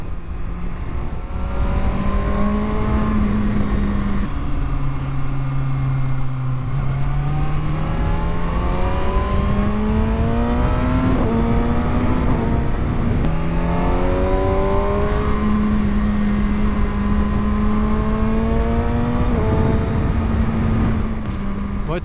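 Kawasaki ZX6R 2020 sport motorcycle, a 136 hp inline-four, heard while riding: a loud, steady engine drone that rises and falls through gear changes and revs, continuous and close for the whole stretch.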